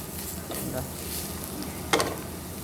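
Steady sizzling from a pan of egg curry with scraping stirring strokes, including a sharper clatter near the end; no talking.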